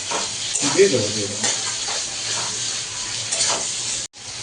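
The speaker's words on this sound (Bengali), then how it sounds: "বললো টমেটোটা দিয়ে দাও হয়ে যাবে আস্তে আস্তে ভাজা ভাজা হবে একসঙ্গে" Tomatoes fry in a pan for lemon butter chicken, a continuous close sizzle with stirring scrapes, and a voice speaks faintly over it.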